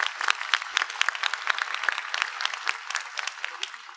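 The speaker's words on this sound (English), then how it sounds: "Applause." An audience claps after a conference talk on verifying external mocks in software testing. Dense, sustained applause of many hands rings out at moderate loudness and tapers slightly at the end.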